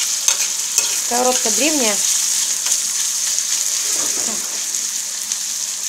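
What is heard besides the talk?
onions frying and being stirred in a pan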